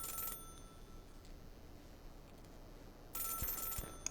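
A payphone in the video game Celeste rings in two short electronic bursts, one at the start and one near the end, separated by quiet ambient game background.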